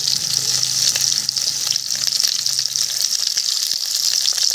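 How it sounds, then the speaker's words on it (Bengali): Potatoes sprinkled with turmeric sizzle steadily in a frying pan, a continuous close-up hiss with faint crackles and no voices. "প্রথমে আমি আলুগুলোকে ভেজে নেব"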